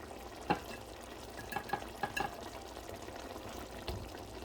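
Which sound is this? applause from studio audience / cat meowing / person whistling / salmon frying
salmon frying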